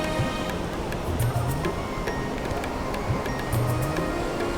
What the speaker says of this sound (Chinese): 听着瀑布的声音也超级疗愈。